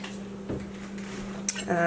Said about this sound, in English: I have a clove of garlic. So I'm just going to take the edge off. I'm just going to smash it like that.